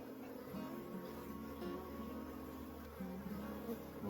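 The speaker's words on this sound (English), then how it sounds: "Oh, you got a bee coming out right here." Honeybees drone in a continuous close buzz during a spring hive inspection, with wingbeat tones shifting as individual bees pass near, steady and fairly quiet throughout.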